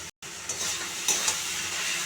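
Ground spices, turmeric and chili with a ground masala paste, fry in hot oil while being stirred, giving a steady close sizzle with a few light scrapes of a spoon against the pan.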